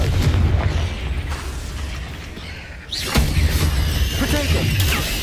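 Confringo fire-blast spell in the video game Hogwarts Legacy, a sharp explosive burst partway through followed by crackling, set among other game effects and noise.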